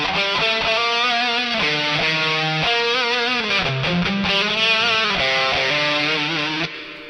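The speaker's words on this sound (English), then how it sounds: "Anyway, the sound with the reverb is this." An electric guitar played through a Mooer GE200 multi-effects unit with reverb and a distorted lead tone sings sustained, bending melodic notes. The reverb tail lingers as the phrase ends, with no talking over it.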